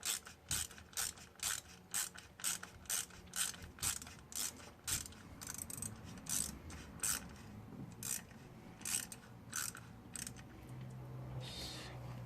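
A ratchet with a deep well socket tightens a fastener on a 2006 Cadillac CTS 2.8L engine during timing chain installation, giving a close, rhythmic series of sharp clicking swings that slows toward the end.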